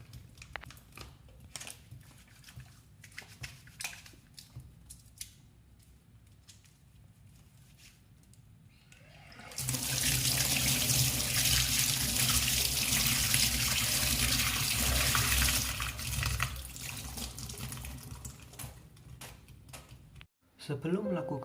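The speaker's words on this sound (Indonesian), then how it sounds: "Mencuci tangan dengan sabun dan air mengalir serta bersih." Hands are washed with soap under a running tap, beginning with quieter rubbing and handling, then a loud, steady rush of water flows for several seconds before stopping abruptly; speech is also present.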